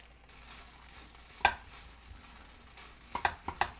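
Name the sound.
stirring and mashing gochujang into fried rice in pan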